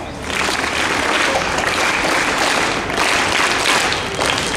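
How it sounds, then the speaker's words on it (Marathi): An audience at a school Marathi language day program bursts into applause, a dense wash of many hands clapping that swells quickly, holds steady and fades slightly toward the end. "त्या सगळ्यांसाठी मिळून तुम्ही एकदा सगळ्या टाळ्या वाजवा"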